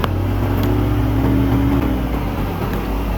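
An underbone motorbike engine labours steadily in first or second gear up a steep mountain road on Mount Telomoyo, a loud, constant droning hum close by with no voices.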